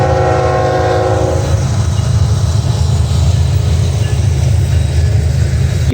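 A westbound Norfolk Southern general merchandise freight train passes close and loud, its horn sounding briefly at the start before a continuous heavy rumble and wheel noise take over.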